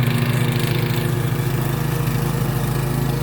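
A John Deere lawn mower runs steadily nearby, a continuous droning engine with a low rhythmic pulse and no voices over it.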